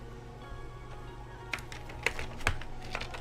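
Keys clacking on a newly built Baka60 mechanical keyboard, a handful of close, sharp strikes tested one at a time in an irregular rhythm over a quiet room.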